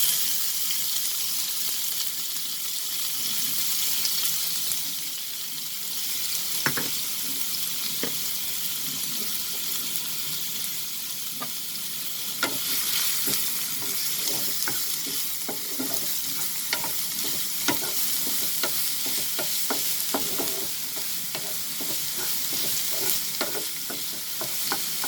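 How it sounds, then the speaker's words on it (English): Chopped onions sautéing in hot oil in a pan for a fried egg curry, a steady close sizzle with frequent stirring scrapes and clicks from the utensil throughout, no talking. "We'll saute it till it becomes slightly translucent"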